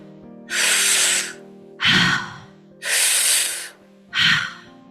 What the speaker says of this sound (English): And that involves breathing in through the mouth and out through the mouth.